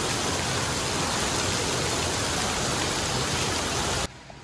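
Heavy Saturday rain pours steadily outside a car protection-film studio as a dense, loud hiss, then cuts off abruptly near the end.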